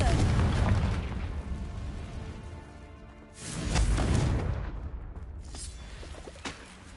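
A Confringo fire spell blasts out in the Hogwarts wizarding game, a loud booming burst with rumbling tail, followed by a second swelling explosion midway amid ongoing battle noise.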